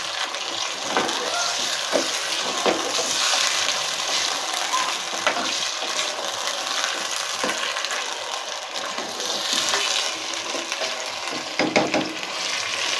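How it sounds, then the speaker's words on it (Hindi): Ginger garlic paste being stirred into chicken korma frying over high heat, a steady close sizzle with scraping and clinking of the spoon against the pot throughout. "इसमें अदरक लहसुन का पेस्ट ऐड कर रही हूँ। इसे अच्छी तरह से चलाएं"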